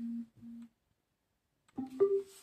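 A Blitzwolf BW-AS2 speaker sounds its short electronic tone on detecting a jack plug: two brief even beeps, a pause, then a rising two-note chime, all clean and close.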